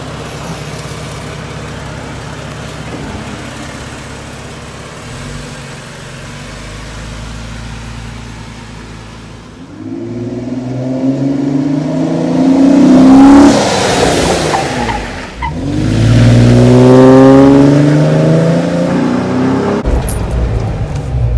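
A Jeep Wrangler Rubicon idles, then accelerates hard and brakes to a stop during a brake test, engine note rising loudly twice, close by, with a quiet rumbling lead-in and no speech.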